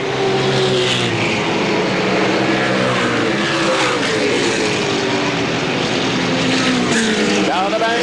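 A winged sprint car races down a speedway back straight in a 1992 Motordrome Speedway event, its loud engine roar droning and shifting in pitch as it passes, with a commentator talking over it.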